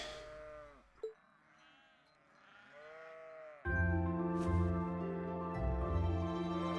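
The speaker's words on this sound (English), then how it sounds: "Did I hear a sheep?" Sheep bleating in the video game Trails of Cold Steel, set in the Nord Highlands: a couple of wavering bleats sound over quiet game ambience, followed by louder sustained background music.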